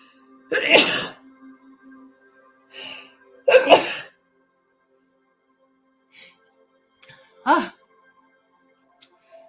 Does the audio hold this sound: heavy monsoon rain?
no